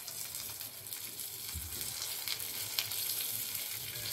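An egg frying in a pan with chopped coriander for egg tadka, a steady soft crackling sizzle close by with a few faint clinks, no voices.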